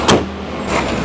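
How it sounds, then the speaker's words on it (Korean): A Bentley Flying Spur engine idles in a smooth, close, steady hum for about a second, with a couple of soft mechanical bursts and no speech. "찰찰찰찰하는 요 소리 말고는 어떤 진동이나 소음도 느껴지지 않는 정말 아름다운 그런 소리를 내고 있습니다."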